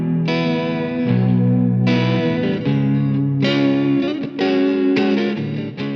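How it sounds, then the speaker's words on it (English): An electric guitar, a G&L Legacy Spirit played through a DoD Looking Glass, a Boss VB-2 vibrato at a slowish rate and medium depth, and a Caroline Meteor reverb, rings out in sustained chords with a gentle, wavering pitch wobble. "G&L Legacy Spirit into the DoD Looking Glass into the VB-2 with a slowish rate medium depth setting"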